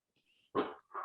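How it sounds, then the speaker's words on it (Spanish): A pet dog barks twice in a quiet home office, a brief faint whine followed by two short, sharp barks close to the microphone, with no talking. "si escuchase a mi perro ladrar, es que lo tengo aquí"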